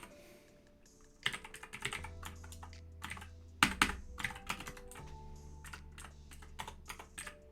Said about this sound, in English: I usually can type without looking at my keyboard